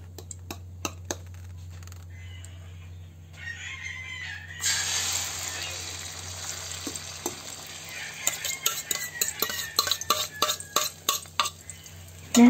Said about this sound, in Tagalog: mainit na ang ating mantika. Pwede na natin ilagay ang talong na nilagay sa itlog